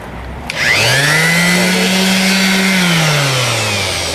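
A random orbital sander hooked to a shop vac for sanding Mercedes G-wagen body panels spins up after a click and holds a loud, steady whining drone with a gliding tone, alone.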